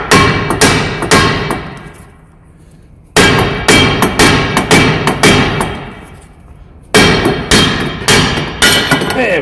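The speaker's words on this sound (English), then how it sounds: "So it's just a copper face hammer." A copper face hammer striking parts of a Citroen front wheel bearing and drive shaft, three series of loud, sharp metallic blows in quick rhythm, each series separated by a brief quiet gap.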